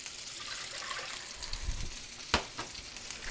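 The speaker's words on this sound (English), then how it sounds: "I'm going to put 2 cups of water." Water is poured into a pot for a pasta sauce for a beef meatball sub, a faint, soft splashing and trickling with a few small knocks, quiet and without speech.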